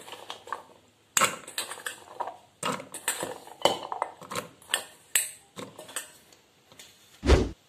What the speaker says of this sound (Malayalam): ഇനി നമുക്കിതൊന്ന് വേവിച്ചെടുക്കാം. അതിനു വേണ്ടി കുക്കറിലേക്ക് ഇട്ടുകൊടുക്കുക.